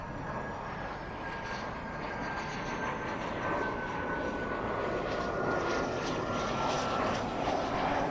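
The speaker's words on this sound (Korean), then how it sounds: "콜롬비아에서 출발한 비행기가 중국 상하이 공항에 도착하자" An airplane flies with a steady, broad engine roar that holds level and swells slightly toward the end, heard alone without voices.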